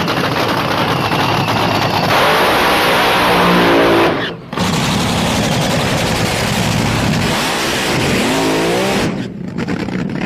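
Front-engine dragsters roar down the strip at a drag racing event, a loud sustained engine howl with a sharp cutoff, then another pass rising and fading before a second abrupt drop.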